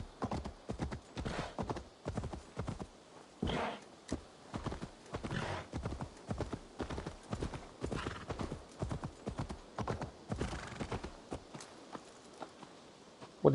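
A horse's hooves clip-clop in Assassin's Creed Valhalla, a steady, close and evenly paced rhythm of sharp hoof strikes with no other sounds around them.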